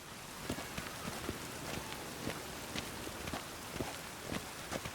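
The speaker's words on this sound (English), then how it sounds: "The city weeps neath its veil of rain." Steady rain falling in the fantasy role-playing game The Witcher 3, a faint, even hiss of drops pattering on surfaces with soft scattered footfalls and no talking.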